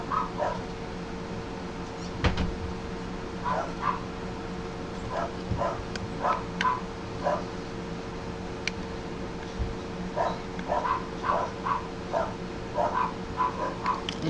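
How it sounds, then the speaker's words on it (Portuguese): Short, high barks repeat in irregular bursts, somewhat distant, over a steady low hum with no talking. "Os cachorros, gente."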